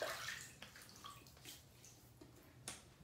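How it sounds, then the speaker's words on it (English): Warm water splashed onto the face before shaving, a few soft close splashes and drips at a faint level with pauses between, no talk. "So let's wet the face and get going."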